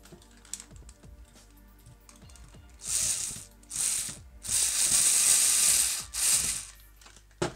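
A small screw being tightened with a screwdriver to hold a digital thermometer probe against an Xbox One heatsink, making close, dry ratcheting clicks in several short bursts with quiet gaps between them.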